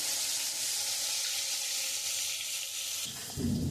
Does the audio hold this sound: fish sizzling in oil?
yes